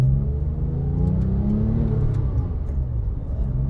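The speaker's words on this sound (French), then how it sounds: "progressivement on accélère, on va mettre la 2" A Porsche 997 GT3 accelerates on a track and shifts into second gear, its engine a loud, steady close-up drone whose pitch climbs and then settles with the gear change.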